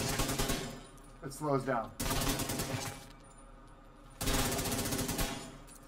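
Rapid automatic fire from a level-40 P416 assault rifle in a video game, sounding in two dense loud bursts separated by a pause, while a voice talks over the fire and in the gap.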